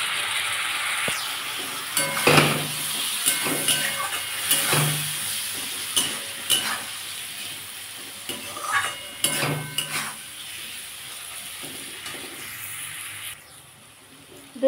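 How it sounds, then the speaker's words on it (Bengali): Egg and potato curry is stirred in a pan after a little water goes in, with repeated scraping and clattering spatula strokes over a soft sizzle, pausing briefly before going quiet near the end. "একটু সামান্য জল দেবো, দিয়ে ভালো করে বন্ধুরা কষিয়ে নেব।"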